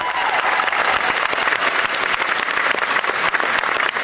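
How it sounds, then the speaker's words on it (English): Audience applause fills a large school district general assembly for McAllen ISD staff, a dense, steady wash of many hands clapping loudly without pause for the full few seconds. "Let's give ourselves a round of applause for a great start."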